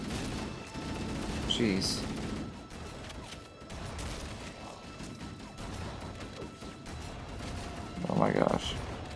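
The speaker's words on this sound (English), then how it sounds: "You're all shooting at me." Enemy gunfire in Halo: Combat Evolved Anniversary, a dense, continuous crackle of shots layered with game effects and a heavier burst near the end, while a player's voice reacts over it.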